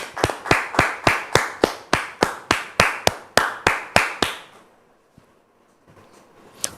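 Applause from a studio audience welcoming a guest onto a French talk show: about four seconds of steady, rhythmic clapping in close, sharp beats, then it stops abruptly into near silence with a faint tap.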